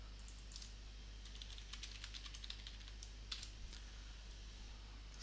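Fingers type on a computer keyboard in a quiet room: soft, irregular bursts of key clicks, close and faint, with a few slightly louder taps and no talking.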